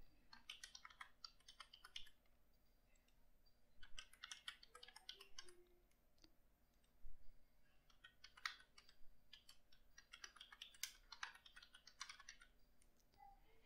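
Someone types a password on a computer keyboard in quick, faint clusters of light key clicks, with short pauses between the bursts and quiet room tone under them.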